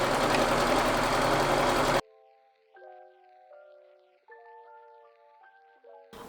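A sewing machine motor whirs loudly and steadily for about two seconds while stitching thrifted clothing, then cuts off abruptly; soft tonal notes follow in the quiet.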